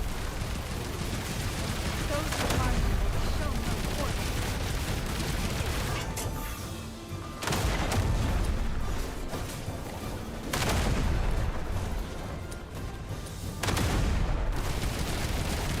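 Heavy gunfire and booming artillery-like blasts from a big boss fight in Duet Night Abyss roar continuously for the whole stretch, dense and loud with brief dips between volleys, and faint voices beneath.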